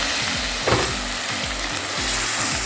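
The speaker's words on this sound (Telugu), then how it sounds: "ఇప్పుడు మనం ఉల్లిపాయలు ఏదైతే ఇక్కడ ఫ్రై చేసుకుంటున్నామో" Sliced onions fry in a pan for a crab curry, giving a steady close sizzle and hiss with faint scraping stir sounds, and no voices.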